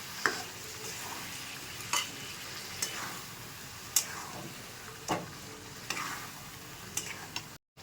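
Ginger-garlic spice paste sizzles and fries in a pan for a Bengali chicken curry, a steady low crackle broken by sharp clinks and scrapes of a spoon stirring about once a second, close and fairly quiet, with no voices.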